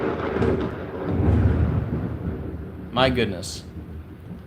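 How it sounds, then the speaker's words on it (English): Thunder rumbles low and long during a storm, swelling and fading under a close voice that speaks briefly near the end. "Can you guys hear me okay over the thunder?"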